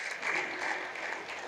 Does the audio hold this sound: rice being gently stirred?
no